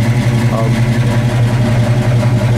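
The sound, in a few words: big block V8 car exhaust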